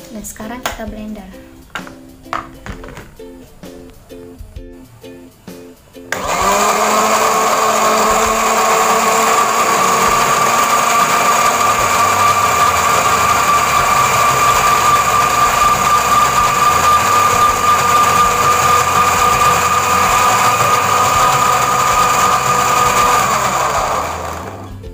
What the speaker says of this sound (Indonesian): Dan sekarang kita blender.